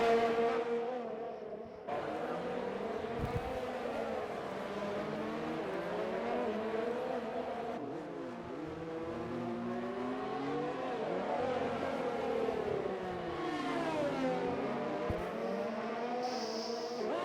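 Race cars in an RSF1 league racing video game on the Azerbaijan circuit, engines droning and revving steadily with rising and falling pitch as cars pass, continuous and moderately loud throughout.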